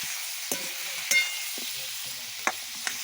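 Meat frying in oil with chilli: a steady, quiet sizzle runs throughout, broken by a few sharp clinks of a spoon or spatula stirring in the pan.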